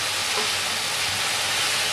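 Potato 65 stir-fried on a high flame, a loud steady hiss and sizzle of hot oil filling the whole moment, with faint low clatter underneath and no speech.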